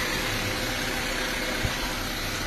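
A Honda Civic Dimension engine idles during a manual diagnosis: a steady, even hum with a broad hiss, continuous and close, with one brief faint tick partway through.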